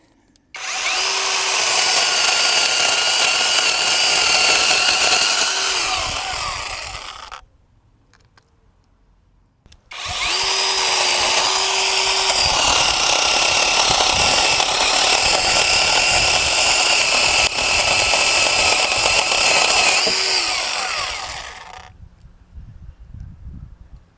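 A cordless mini chainsaw buzzes loudly and steadily while cutting wood, in two long runs separated by a short quiet pause.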